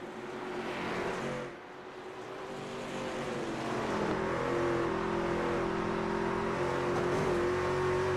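A Truck Series race truck that has been slapping the wall and handling poorly drives down pit road during a playoff race, its engine a continuous droning whine that dips briefly, then swells and holds steady and loud.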